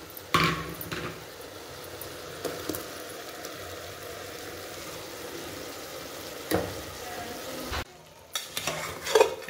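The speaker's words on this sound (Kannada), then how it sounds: "ಮಸಾಲೆ ಹಾಕ್ಕೊಂಡಿದ್ದೀನಿ, ಸ್ವಲ್ಪ ಮಿಕ್ಸ್ ಮಾಡ್ಕೊಳ್ಳೋಣ" Ground masala being stirred into mutton frying in oil, a soft continuous sizzle with scraping strokes of a spoon against the pan, steady and close, no talk.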